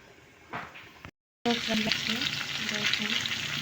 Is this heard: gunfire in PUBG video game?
no